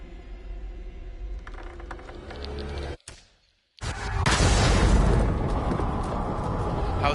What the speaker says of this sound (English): Was that explosion like blowing your ears apart?